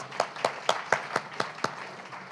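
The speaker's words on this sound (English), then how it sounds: "A round of applause." Audience clapping for two deans at a Tucson Humanities Festival reading: about seven sharp, evenly spaced claps, fairly quiet and sparse, sounding like only a few hands.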